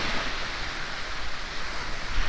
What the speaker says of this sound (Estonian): Ma ei tea, kui hästi mind kuulda jääb selle kõva tuule ja lainetamise taustal.